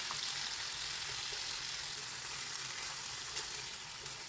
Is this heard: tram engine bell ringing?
no